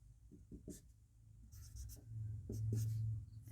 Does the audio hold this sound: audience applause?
no